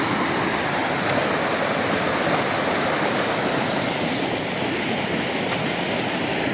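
The Sokuluk mountain river in Kyrgyzstan rushes high and muddy after rain, a loud, continuous broadband roar of fast water heard close up with no pauses.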